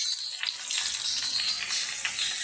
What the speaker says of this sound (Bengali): এখানে দুধ আছে, এই দুধটাই বেলের শরবতের জায়গায় ঢেলে দিলাম।